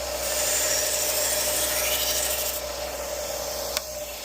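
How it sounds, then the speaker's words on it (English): A Japanese kitchen knife edge is ground on a Trizact A30 abrasive belt of about 600 grit, producing a steady close hiss and whine of belt contact with a brief tick near the end. "a couple clean passes right here are going to refine the scratch pattern on that tiny, tiny little apex bevel"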